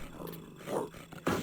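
A low dog growl from the PlayStation game Oddworld: Abe's Oddysee, short rumbling snarls in two or three bursts with a sharper one at the end, heard alone amid game noise.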